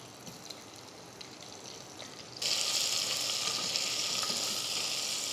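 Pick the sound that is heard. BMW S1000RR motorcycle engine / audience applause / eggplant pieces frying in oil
eggplant pieces frying in oil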